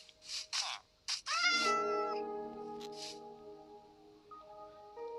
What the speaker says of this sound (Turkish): Tam miyavlıyor bir de ya.